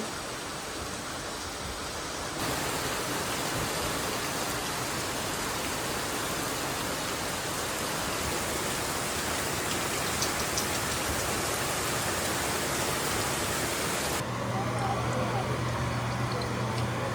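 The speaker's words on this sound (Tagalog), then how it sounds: "Grabe yung ulan, guys. Super duper. Super heavy rain." Very heavy rain pours down steadily on a rural farm, a dense, loud, unbroken hiss that holds at the same level for the whole stretch with no voices over it.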